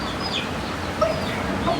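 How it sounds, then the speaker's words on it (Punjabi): A yellow rooster kept with hens clucks in a few faint, brief calls over a steady background hiss. "ਇਹ ਮੁਰਗਾ ਆ।"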